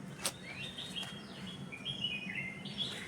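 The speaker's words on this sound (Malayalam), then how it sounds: "നിറച്ച് കാക്കയും കിളികളും ഒക്കെ വന്നിട്ടുണ്ട്" Small birds chirp and tweet in short bright calls outdoors, faint and somewhat distant over a low background hum, with a few scattered calls across the moment.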